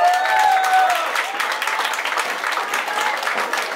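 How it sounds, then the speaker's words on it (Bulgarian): Applause from a crowd at a bar gathering, dense steady clapping filling the whole stretch at moderate loudness with some voices mixed in. "аплодисментите са за всички вас"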